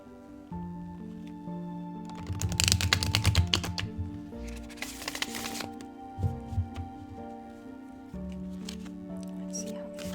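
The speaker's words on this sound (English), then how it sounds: "One more shuffle." A deck of thin fairy tarot cards is shuffled by hand in a few bursts of riffling and flicking, close up, set against a steady musical bed.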